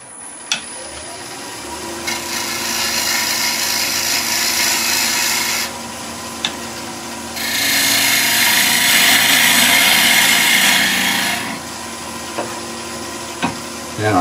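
Wood on a lathe is cut and smoothed as the edges of a tealight holder are cleaned up. A steady, close scraping hiss swells in two long passes, with brief knocks and quieter spinning between them.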